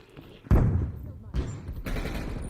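A KSP SMG submachine gun in a video game fires a few sharp, heavy bursts, close and loud, with booming thuds and talking faintly underneath.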